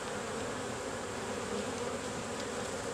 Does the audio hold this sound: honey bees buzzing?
yes